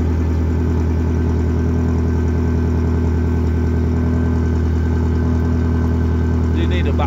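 A Ford Focus mk2 with a 1.6 engine idles steadily after a cold start, a loud, constant near drone with a faint rhythmic pulse and no speech over it.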